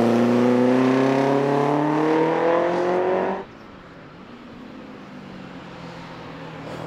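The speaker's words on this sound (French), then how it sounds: "Le son de ce petit 4 cylindres boxer en aluminium de 1600 cm3 double allumage Twin Spark est vraiment caractéristique." A classic Alfa Romeo TZ race car's 1600 cc aluminium four-cylinder boxer engine with twin-spark ignition revs loudly and rises in pitch at Spa-Classic, then abruptly drops to a quieter, distant drone.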